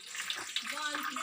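Water is poured into tamarind and plum paste while making sharbat, a close steady splashing gush with small bubbling surges, no voices over it.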